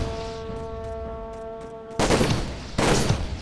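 Gunfire from a sniper tower in the video game Toy Soldiers: a steady tone, then two loud, sharp bursts of shot noise close together near the end.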